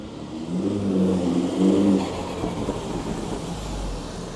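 Mini JCW, a crash-damaged car with rusty brake discs, running on its first drive after repair, a steady engine drone with a brief swell in revs, heard close with no talk.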